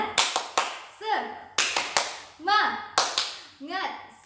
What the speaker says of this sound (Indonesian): Mari sama-sama kita tepuk semangat ya.